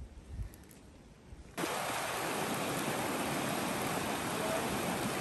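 Steady rain hisses on a hiking trail, starting suddenly after a quieter moment and holding as a dense, even wash of noise.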